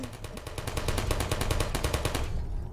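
Rapid automatic gunfire from turrets shooting at the player in the Portal video game, a steady stream of sharp evenly spaced shots for nearly three seconds that drops off just before the end.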